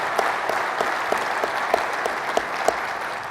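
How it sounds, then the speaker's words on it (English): A conference audience at a public transportation general session applauds steadily, a dense wash of clapping with a few louder individual claps standing out at regular intervals. "let's give them all a big round of applause"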